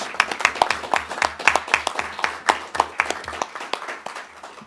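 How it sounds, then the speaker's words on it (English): Council members at a council meeting applaud the new head of paid service, a modest group of hands clapping in a fairly regular, uneven patter that stays close and clear, then thins out toward the end. "I'd like to give a round of applause"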